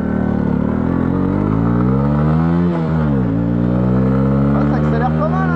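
A Honda CB125R neo-retro 125 cc four-stroke motorcycle revs hard, its engine note climbing then dropping with each shift through first, second and third gear, loud and close.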